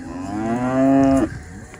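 A single long, loud cow moo from a herd of cattle worked through flooded, muddy pens, rising and holding steady before cutting off, with faint farmyard noise after.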